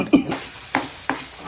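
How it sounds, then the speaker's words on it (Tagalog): Garlic and onion sautéing in a pan, with a soft sizzle under three sharp stirring knocks and scrapes of a utensil against the pan, close and fairly quiet. "Nagisa ng bawang sibuyas."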